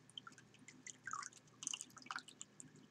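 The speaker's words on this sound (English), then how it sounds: "So just dip it in your water cup like that. Rinse it out." A tattoo cloth is dipped and rinsed in a small water cup, giving soft, close wet drips and squishy splashes in short bursts, with no talking.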